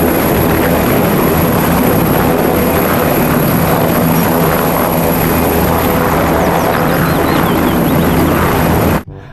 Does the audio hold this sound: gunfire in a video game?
no